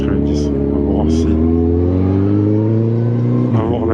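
A KTM 1290 motorcycle engine hums close and steady, its drone climbing gently in pitch as the revs build, with a brief voice or breath noise near the start and end.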